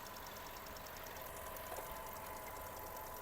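A Skoda Octavia Tour's 1.6 MPI naturally aspirated engine idles steadily with a low, even hum and faint rhythmic ticking, no voices.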